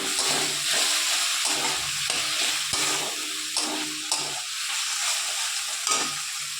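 Spices sauté in a little oil after a splash of water goes into the pan, giving a loud, steady sizzle broken by repeated scraping stirs of a spoon.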